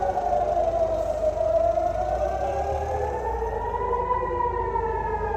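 A loud air raid siren in Israel warns of rockets fired from the Gaza Strip, wailing steadily, its pitch slowly rising and falling, with no voices present.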